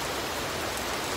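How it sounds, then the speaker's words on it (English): Steady rain falls outside, a dense, even hiss without a break over a brief moment. "It's raining quite a bit."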